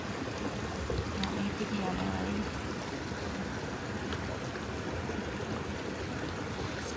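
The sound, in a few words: mountain creek flowing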